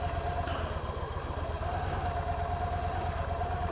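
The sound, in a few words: motorcycle engine idling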